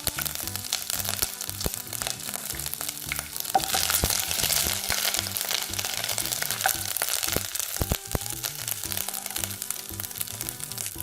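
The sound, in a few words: tempering ginger and chillies in a frying pan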